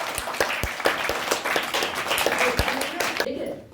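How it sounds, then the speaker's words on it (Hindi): An audience claps at a Republic Day event, a dense burst of many hands right after a call to applaud, loud and close, fading near the end. "जोरदार ताली बजाइए।"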